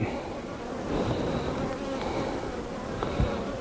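Honeybees swarm around an open backyard hive during an inspection, producing a dense, steady close buzz with individual bees droning past the ear now and then, with no talking.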